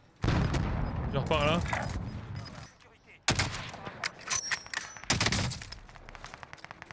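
Video game gunfire crackles in dense bursts close by, with sharp volleys and scattered single shots, while a voice talks briefly over the shooting.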